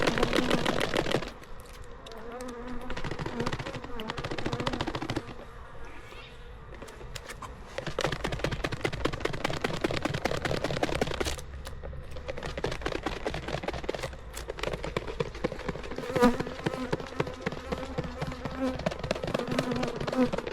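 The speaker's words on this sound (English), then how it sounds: "Actually, we'll go shake those bees before we do anything." Honeybees from a third hive drone in a dense, continuous buzz as the hive is shaken, with bursts of rattling and knocking across the sound and a few brief pauses.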